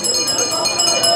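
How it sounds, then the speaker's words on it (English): Bicycle bells ring repeatedly along a crowded old street in Amsterdam, bright metallic dings pulsing in a quick rhythm under someone talking nearby. "Here you hear a lot because the tourists are all around"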